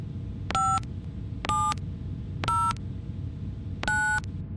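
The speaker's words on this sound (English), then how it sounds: "Give me that phone. I'm dialing." Four evenly spaced electronic telephone dialing tones sound in the video game Mushroom Age, each a short steady dual-pitch beep over a low background hum.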